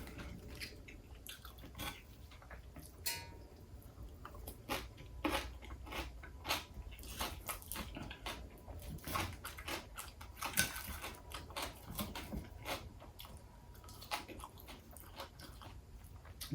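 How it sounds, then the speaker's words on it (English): Crunchy salad chewed close to the microphone alongside a Korean beef dinner, with repeated soft crunches and wet bites in an irregular rhythm and no talking. "The salad adds a nice crunch to the meal."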